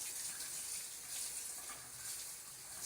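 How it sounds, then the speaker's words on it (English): Kitchen tap running while basil is rinsed under it, a faint steady hiss of flowing water with no talk. "So, we have to rinse this basil off first."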